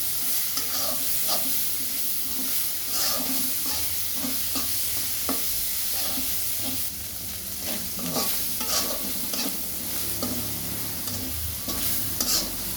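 Food frying in a pan is stirred steadily with a utensil, giving repeated scraping strokes over a continuous close sizzle that runs unbroken throughout.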